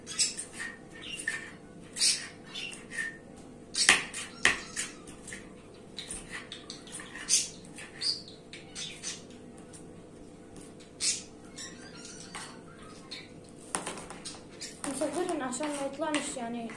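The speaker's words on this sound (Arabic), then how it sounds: "انا اسف على ازعاج صوت العصافير يعني." Busy bird chirps and squawks scattered throughout, with a steady background hum and some activity in the room.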